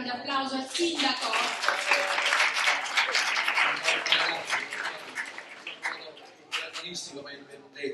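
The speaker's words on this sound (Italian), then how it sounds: "Un grande applauso al sindaco." A theatre audience in Giarre applauds the mayor with sustained, dense clapping that swells and then thins toward the end, with a voice briefly audible.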